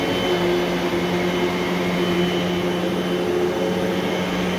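A 2011 Eureka The Boss Smartvac upright vacuum cleaner runs steadily with a constant loud motor whine and airy roar, brush roll agitating, no voices over it.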